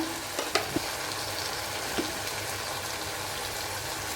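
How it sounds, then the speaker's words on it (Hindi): Tomatoes sizzle loudly in a pan as red chili powder, coriander, garam masala and turmeric are stirred in for ridge gourd and paneer bhurji. A continuous hiss carries a few sharp spoon taps. "आधी चम्मच हल्दी और इसको मिक्स करते हैं।"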